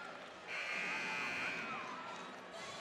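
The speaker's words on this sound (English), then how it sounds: "we have the first buzzer" A sustained electronic buzzer blares for about two seconds over faint arena crowd noise during a 2A girls basketball state tournament quarterfinal game, signalling a timeout break.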